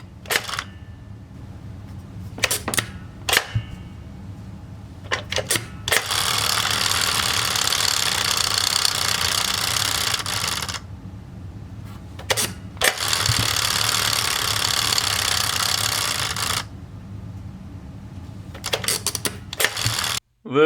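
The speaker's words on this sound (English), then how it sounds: "Pressing on the silo will cause the ramp to start vibrating, sending the pigs straight into Thomas's truck." A toy farmhouse silo set's vibrating ramp, meant to send pigs into a truck, buzzes steadily in two long stretches of several seconds each, close and loud, broken by short clicks and handling knocks between them, no speech.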